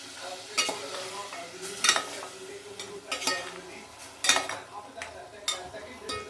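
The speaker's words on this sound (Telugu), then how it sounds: "మటన్ కొంచెం వేగే వరకు కలపాలి" Pieces of mutton fry in a pan under a soft, steady sizzle, with a utensil stirring and scraping in irregular bursts and several sharp metallic clinks against the pan, heard up close.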